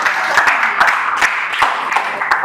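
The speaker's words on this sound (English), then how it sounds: "Please, can you give them a round of applause again?" Audience applause during a talk on entrepreneurship and financial intelligence: a steady wash of clapping with sharper individual claps poking through at intervals, fairly close and sustained throughout.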